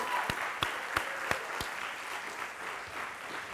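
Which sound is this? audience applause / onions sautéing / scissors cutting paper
audience applause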